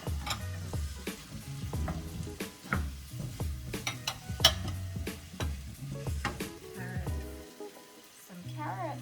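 Diced potatoes, cauliflower, carrots and beans sizzle and fry in a pan while being stirred, a steady crackling hiss broken by repeated scraping and clattering strokes, with music playing underneath throughout.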